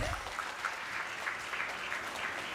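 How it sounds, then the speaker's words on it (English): Applause from the audience at a medical college induction programme, a soft, steady wash of clapping heard from a distance and held at low level for the whole stretch. "I think you should give an applaud for that"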